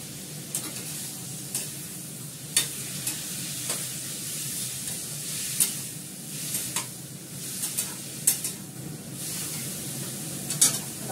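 Dal sautéing in a pan, with a steady close sizzle and frying hiss and occasional spoon scrapes and taps as it is stirred, no voices.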